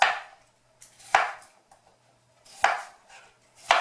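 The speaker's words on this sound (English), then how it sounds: "the tip of your knife down on the board and roll your fingers when you're chopping" A knife chopping mulberries on a cutting board: four sharp, separate strikes spaced unevenly, close and distinct against near silence.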